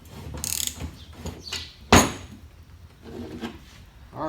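A 15/16 socket ratchet tightens nylon lock nuts while a mulching deck chute is fitted on a Z930M zero-turn mower deck, giving a few close, dry mechanical clicks and rattles, with one sharp clack midway and no talking.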